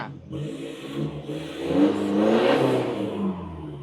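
A car engine revs up and down through a loud, raspy exhaust, rising to a throaty peak before easing off, heard close by without talk.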